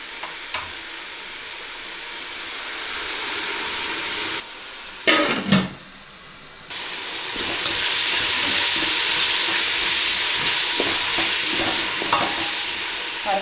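Chopped tomatoes are frying in oil in a pan for a village-style chicken curry with vegetables. A loud, continuous sizzle is broken by clatter and a short lull, then it resumes more intensely.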